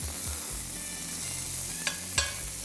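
Butter sizzles in a hot pan beside searing salmon fillets, a steady loud frying hiss with two sharp spatter crackles near the end and low clinks from the pan.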